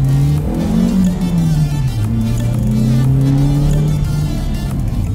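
A Seat Leon with a sport air filter, tuned intake and exhaust, and a blocked EGR valve revs loudly and close by, its engine pitch rising and falling through repeated throttle blips.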